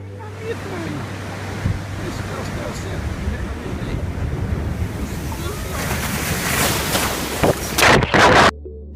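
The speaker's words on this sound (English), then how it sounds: "the waves and currents there can be extremely powerful" Powerful ocean waves surge and roar off the coast of Nusa Penida, a continuous heavy wash of surf with gusting wind buffeting the microphone and louder crashing bursts toward the end.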